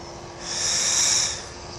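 A 60-inch scratch-built P-51 of dollar store foam on a 4S 3000 battery: a breathy electric motor and propeller whoosh swelling as it passes overhead, then fading, loud and close for about a second.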